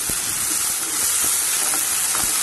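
Ginger garlic paste fries in a hot pan, giving a steady, close sizzle with a dense hiss and a few faint clicks of stirring, with no voices over it.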